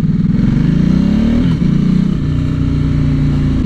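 KTM motorcycle engine running close by, loud and steady, with its pitch rising and then settling into an even drone, with no other sounds.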